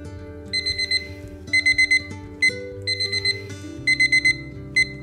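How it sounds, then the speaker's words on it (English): An air fryer's cooking timer alarm goes off in repeated bursts of rapid high beeps, loud and close, with short pauses between groups over a low background hum. "our 4 minute timer just went off"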